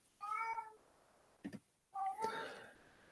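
A cat gives two meows a second or so apart, the second longer and rising, close but fairly quiet, with a brief faint sound between them and no speech.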